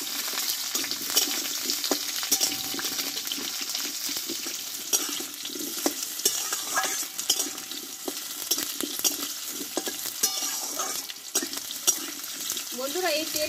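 Small cut potatoes stir-fried in oil for a vegetarian pumpkin dish with panch phoron, giving a continuous close sizzle with scraping stirs and occasional clinks, no voices.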